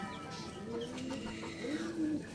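A racing pigeon coos softly inside its loft just after arriving home, a low, rolling call repeated a few times against a faint background.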